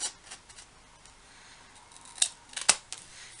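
Scissors snip through material while mitering a corner, giving a few sharp close cuts toward the end of a short, quiet stretch with no talking.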